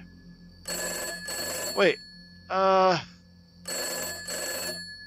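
A telephone rings inside a horror-tinged video game, The End Of The 50s: two loud bursts of old-style bell ringing, a pause, then two more. A voice speaks briefly between the rings.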